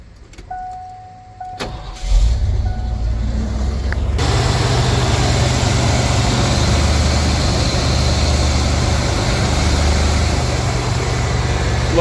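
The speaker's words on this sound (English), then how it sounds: "we're gonna fire it up and make sure it's going round and round properly" A Ford 5.8L 351 Windsor V8, just fitted with a new belt after a smog pump delete, cranks and fires up, then settles into a loud, steady, low rumbling idle that runs continuously with no talk.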